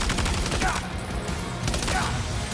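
Gunfire in Death Stranding 2 comes as quick bursts of rapid shots, two clusters of sharp cracks separated by a brief lull, loud and close.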